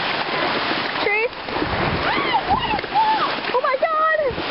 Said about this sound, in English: Oh my god! It's a waterfall!